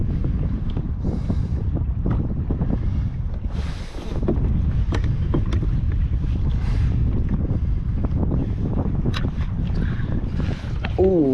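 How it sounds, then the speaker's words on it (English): Steady wind buffets an ocean kayak out at sea, a dense continuous rush and microphone rumble with faint water sounds beneath, loud and close throughout. "Like, it is a little windy, but it's very tolerable."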